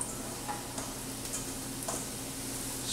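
Mushrooms sizzle in olive oil in a hot pan, a steady soft crackle with a few sharper ticks and stirring clicks, close and continuous with no talking.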